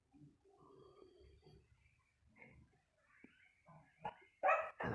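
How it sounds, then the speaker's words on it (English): A dog barks outdoors in the early morning, a few sharp barks and whimpering yips at a distance, then louder close barks at the end against quiet surroundings. "And that's a dog."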